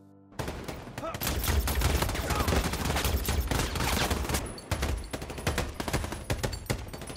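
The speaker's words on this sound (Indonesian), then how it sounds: "Lalu terjadilah baku tembak yang sangat luar biasa." Heavy film gunfire from the war drama American Sniper, a dense fusillade of rapid shots and bursts that starts abruptly and continues loudly, thinning into scattered blasts toward the end.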